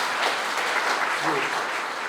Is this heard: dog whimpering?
no